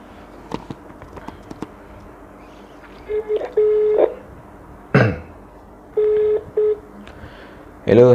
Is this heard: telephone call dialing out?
yes